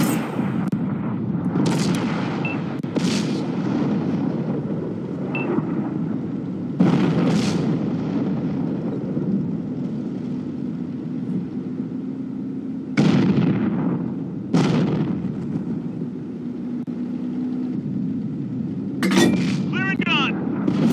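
Tank cannon shots in a video game boom out repeatedly at irregular intervals over a low continuous engine rumble. Each blast is loud and sharp, with a short decaying tail, and voices can be heard faintly in the background.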